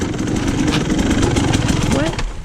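A KTM 150 XC-W two-stroke dirt bike engine running during a beginner riding lesson, a buzzy, uneven rumble with rapid pulsing throughout and a brief rising rev near the end, heard under talk.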